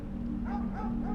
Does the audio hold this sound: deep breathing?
no